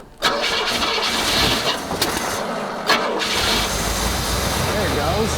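A Cadillac limousine engine cranks and catches almost immediately, then settles into a loud, steady run close by. Faint voices can be heard under the engine.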